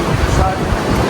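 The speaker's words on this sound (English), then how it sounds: "Very windy here. We're on the edge of Hurricane Melissa." Strong wind blows across a cruise ship deck at sea on the edge of a hurricane, a brief loud, rushing buffet of wind noise against the microphone, with surf mixed in.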